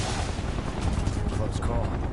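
Dense, continuous bursts of video game gunfire crackle close and loud through the whole stretch, with game voices mixed in underneath.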